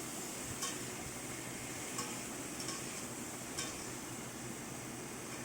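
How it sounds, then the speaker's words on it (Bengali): Potato and pointed gourd with turmeric frying in a pan, giving a steady, even sizzle with a few faint taps of a spoon stirring against the pan. "আলু পটলটাকে ভালো করে ভেজে নিতে হবে আগে ভালো করে ভেজে নিচ্ছি"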